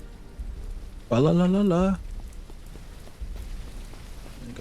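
Steady rain falls in the survival video game SurrounDead, a constant soft hiss throughout, briefly overlaid by a voice singing a short melodic phrase near the start.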